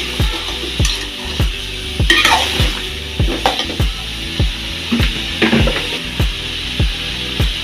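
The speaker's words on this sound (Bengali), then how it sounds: "আদা বাটা দিয়ে দিলাম, রসুন বাটা দিয়ে দিলাম," Ginger and garlic paste sizzles in a hot pan while a spoon stirs it in a steady rhythm, each scrape landing as a regular knock over a continuous close frying hiss.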